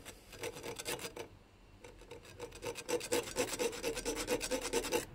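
A blade scratching a reference mark onto a VW Multivan TDI turbo during disassembly, a faint, rapid rasping scrape repeated in short rubbing strokes.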